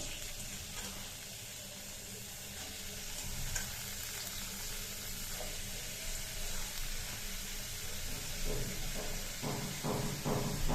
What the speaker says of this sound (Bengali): আমার তেলটা গরম হয়ে গিয়েছে এখন আমি ভাজিটা দিয়ে দিচ্ছি